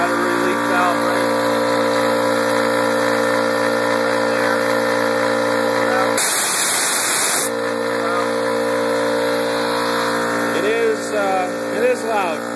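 A Craftsman 33 gallon air compressor runs loudly with a steady droning motor hum, interrupted by a short burst of rushing air hiss midway, with a person talking over it.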